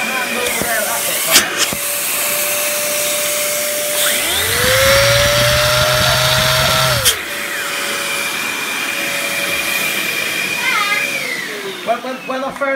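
A 2003 Dyson DC11 vacuum cleaner motor spins up with a rising whine, runs loudly for a few seconds, then winds down, with people talking close by before and after.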